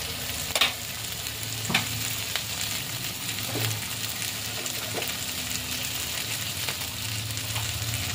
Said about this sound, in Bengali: বাটি ধোয়া অল্প একটু জল দিয়ে ভালো করে কষিয়ে নেব।